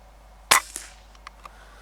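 One sharp crack from an air rifle fired at a rabbit in grassy ground, followed by a few faint clicks and small knocks, with no other sound nearby.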